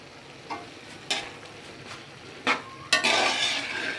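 A spoon stirs ginger into aloo gobi in a pan, a few scraping strokes and clinks against the metal over a soft sizzle, closing with a longer hissing scrape.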